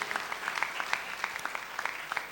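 Audience at an inter-school quiz competition in North Bengal clapping together, a dense, even patter of many hands at moderate distance in a hall.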